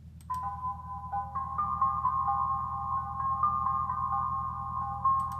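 A steady synth-like piano line holds sustained tones over a pulsing low bass, playing continuously and fairly loud with no voices.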